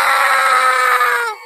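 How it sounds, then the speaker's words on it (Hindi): A long, loud scream from a man in a dramatic Hindi horror story, held steadily at a shrill pitch for over a second before cutting off abruptly, heard alone. "तभी गोपी की चीखने की आवाज आती है।"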